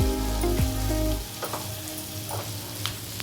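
Ivy gourd frying in a pan with curry leaves: a loud hot sizzle with a brief stir at first, then quieter steady crackling and popping, with no voices.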